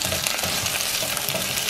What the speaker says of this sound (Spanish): Y ahí seguimos meneándolo para que se siga sazonando.